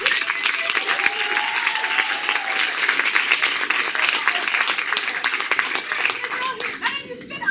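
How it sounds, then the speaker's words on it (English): Audience at a musical benefit event clapping steadily, a dense crowd applause with individual hand claps standing out, carrying on for several seconds with faint voices mixed in underneath. "We clap for you anyway."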